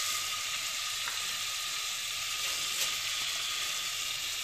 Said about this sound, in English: we'll take 1 tablespoon of butter and melt